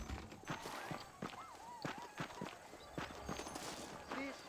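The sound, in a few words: horses walking in the video game Red Dead Redemption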